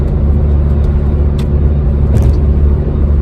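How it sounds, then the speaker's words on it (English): Interior drone of a Mitsubishi Evo 7 GTA on the move, a loud, steady low rumble of engine and road noise with a couple of faint ticks. "This Mitsubishi Evo that I'm driving."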